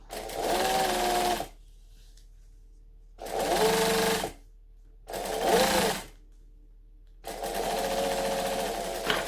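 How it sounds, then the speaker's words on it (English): A sewing machine backstitches in four close, loud bursts of fast mechanical whirring, separated by short pauses, with a faint hum between runs. "I'm going to backstitch just to lock that off."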